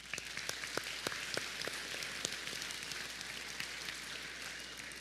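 Applause rising from a large commencement crowd honoring graduates, a steady broad wash of clapping with sharper individual claps popping out, fairly distant and continuous throughout.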